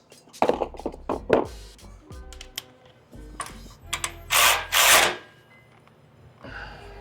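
A ratchet tightens a 13mm bolt on the mid pipe at the transmission of a 2020 BMW X5 40i during a downpipe install, with quick clicking bursts, metallic taps and clunks, and a couple of longer ratcheting rasps close by.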